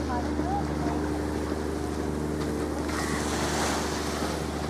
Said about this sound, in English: this is the beach, like the local beach